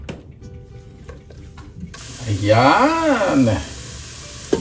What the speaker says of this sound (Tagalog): Nagigisa na po ng maayos.